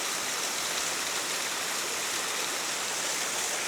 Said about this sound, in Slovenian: Zdaj smo prav pod slapom.